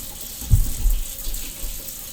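Water runs from a kitchen tap into a sink in a steady, close hiss, with a brief louder gush near the start before settling into an even flow.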